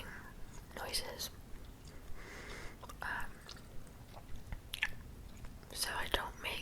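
Gum is chewed close to the microphone with wet, squishy smacks and clicks at an irregular rhythm, intermittently under soft whispering.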